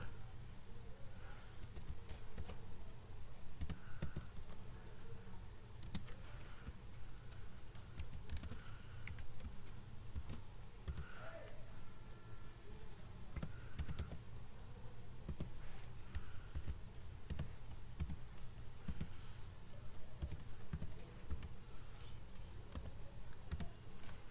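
Steady, continuous typing on a computer keyboard while Arduino code for an LCD display is entered, soft overlapping key clicks running the whole time over a low background hum, with no talking.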